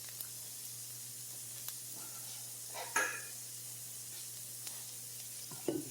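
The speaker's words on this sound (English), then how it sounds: "them onions are sizzling, so I'm going to throw in my garlic" Chopped onions and three cloves of garlic sizzle steadily in a hot pan for a chicken peperonata, a continuous close hiss broken by a couple of brief clatters, with no talking.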